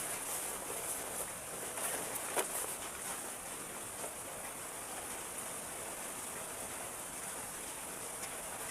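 Heavy typhoon rain pours steadily as a dense, even hiss of falling water, with occasional louder drops splashing close by, continuous throughout without speech.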